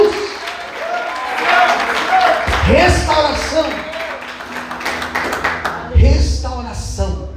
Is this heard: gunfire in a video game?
no